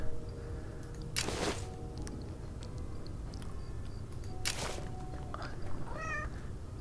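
In the Portal Knights video game, a cat gives a couple of short meows, heard faintly over a steady low background hum, with no talking.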